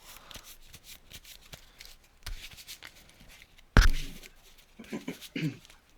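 A deck of Cardfight Vanguard cards is shuffled at a tabletop game, soft riffles and shuffling patter close by, with one sharp thump partway through and brief sounds after.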